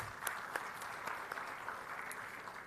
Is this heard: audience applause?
yes